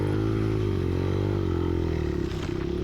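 A motorcycle engine drones steadily and loudly while riding a cross-country course, with the pitch rising and falling slightly through the ride.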